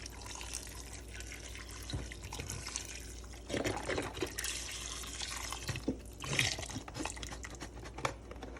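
Chicken broth, about two pounds of it, poured from a container over potatoes in a pot, with a steady splashing trickle and occasional heavier gushes and drips, close by and fairly loud.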